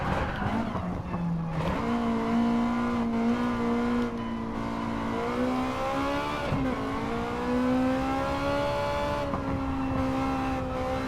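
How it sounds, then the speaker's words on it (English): A race car in Gran Turismo 7 revs hard toward the rev limiter, the engine note climbing through several gear changes in a continuous loud drone, with brief tyre squeal. "How much more RPM do I have before it hits the rev limiter?"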